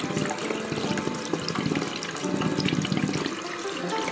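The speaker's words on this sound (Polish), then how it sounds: "Normalną wodą zalewamy." Ordinary tap water, not boiling, pours into a container in a loud, steady, continuous rush with no talk.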